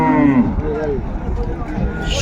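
A cow lets out a long, low moo at the start of a cattle market in Dinajpur, followed by a busy market murmur of voices and another animal call.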